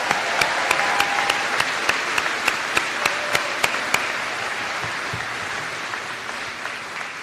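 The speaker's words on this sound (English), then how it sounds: "how about a huge round of applause for our staff?" Sustained applause from a large crowd at a graduate student recognition ceremony, steady and dense with sharp individual claps standing out, continuing throughout without voices.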